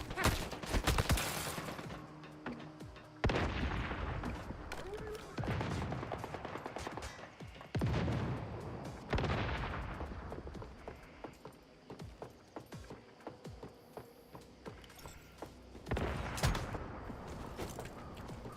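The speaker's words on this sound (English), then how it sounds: "Stop shooting me." Rapid bursts of gunfire from the online survival shooter game, repeated volleys and short automatic strings recurring throughout, loud and close, with occasional faint voice underneath.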